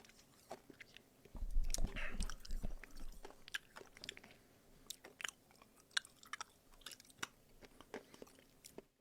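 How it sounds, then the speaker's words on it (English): A man chews loudly with his mouth wide open right against a microphone, giving wet smacking and crunching sounds in an irregular rhythm, very close and intimate, with a heavier burst of crunching early on and no talking. "Just mouth wide open as he chews into the microphone."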